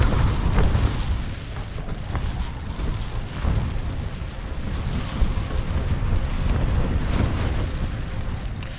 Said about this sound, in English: I'm getting more and more nervous about this wind, I have to say.